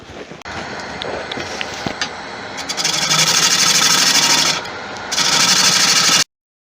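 An ironwood bowl spinning on a wood lathe is power sanded, with a steady loud rasping hiss that briefly drops, then resumes before cutting off abruptly, with the motor running underneath.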